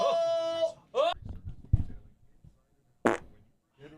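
A squeaky, drawn-out fart leads into a couple of short bursts, with people talking and reacting loudly around it in a rowdy indoor setting.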